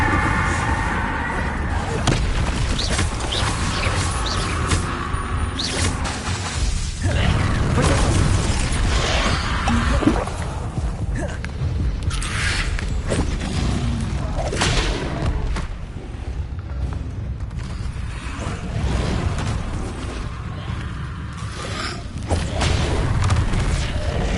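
Repeated Confringo blasting spells explode in the Hogwarts Legacy video game, a dense barrage of loud booms and crackling bursts filling the whole stretch with scarcely a pause.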